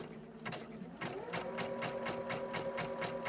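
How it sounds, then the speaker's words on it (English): A sewing machine stitching a seam, starting slowly and then settling into a steady, fast mechanical clatter of evenly spaced needle strokes, close and fairly quiet. "Let's see if I can hold the camera and sew at the same time."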